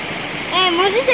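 Water trickles and splashes into a small natural pool at an outdoor spot in Orehovo, Bulgaria, a steady close rush heard under a person talking.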